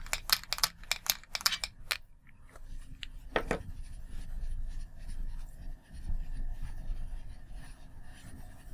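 A rapid run of dry rubbing strokes from erasing writing on a board, close and crisp for about two seconds, then only faint room hum with a lone stroke.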